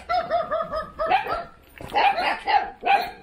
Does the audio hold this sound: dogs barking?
yes